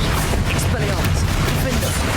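Rapid Bombarda and Confringo spell blasts from Hogwarts Legacy, a dense run of booming, crashing impacts that stays loud and continuous throughout.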